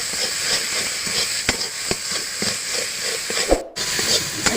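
Ground flat-bean paste sizzles in a hot pan with a steady hiss, while rhythmic scrapes and taps of stirring repeat through it. There is a brief dropout near the end.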